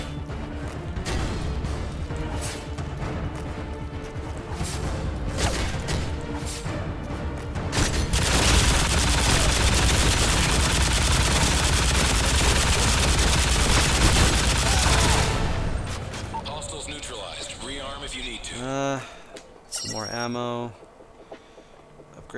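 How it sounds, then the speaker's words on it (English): Sustained bursts of light machine gun fire in the Call of Duty MW3 Survival mode on the Outpost map, dense and loud, peaking in a heavy continuous stretch before trailing into scattered game effects. "I'm gonna buy a light machine gun really fast. And I'm gonna kill the shit out of this guy with it."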